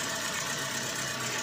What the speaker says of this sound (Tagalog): Pumapalya pa rin. Umaalog yung makina.